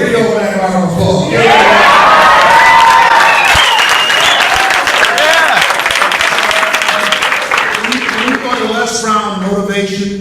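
A large crowd at a motivational talk for a South African team bursts into loud, sustained applause and cheering, with shouts and whoops rising over the clapping throughout, close and dense from start to finish.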